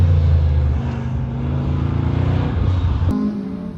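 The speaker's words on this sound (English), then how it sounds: "There goes that C4 Corvette." A C4 Corvette at an evening autocross drones past with a loud, sustained engine note, its pitch rising and falling through gear changes as it moves through the course nearby.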